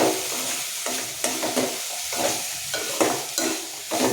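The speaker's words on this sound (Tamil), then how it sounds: "அப்பப்போ எடுத்து கிண்டி விட்டுக்கணும் பிடிச்சிடாமல்" Mixed vegetables for a white hotel-style kurma sautéing in oil over a low flame, stirred in steady scraping strokes with a continuous close sizzle and no talking.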